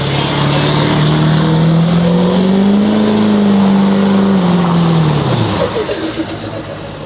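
A 1000HP lifted truck engine roaring on a dyno, a loud, sustained, close drone that climbs in pitch, holds high, then drops and tapers off with rumbling toward the end.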